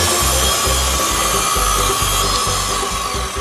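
A loud power saw running steadily, cutting through wood with a continuous buzzing whine and rhythmic pulsing.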